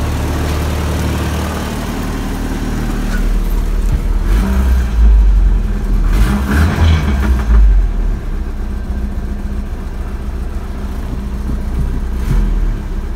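A 1985 Toyota pickup's 22R engine, still cold, idles then revs up several times in rough low-pitched surges before settling back to a steady idle, loud and close.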